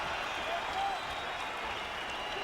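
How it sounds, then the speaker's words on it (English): Steady roar of a large London crowd cheering during the final seconds of the Silva vs Bisping fight, dense and continuous for the whole stretch with a faint voice rising briefly above it. "it is met by a huge cheer from the London crowd"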